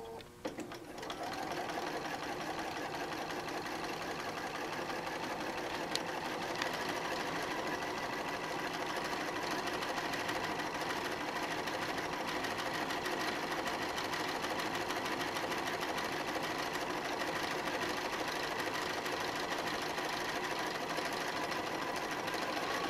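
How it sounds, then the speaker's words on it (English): A sewing machine stitches a seam on a quilt-as-you-go Alexandra tote bag by June Tailor, running in one long, steady, close hum with no talk. "Right sides together, and I sew another seam."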